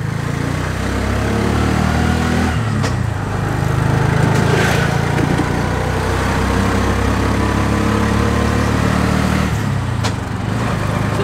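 A tuk tuk's small engine revs and pulls away on the road, a steady buzzing drone that stays close and loud throughout, with a couple of brief gear-change dips.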